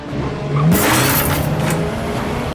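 Film car stunt sequence with a car engine revving hard and driving close by, a sudden loud burst that holds steady for about two seconds before cutting off.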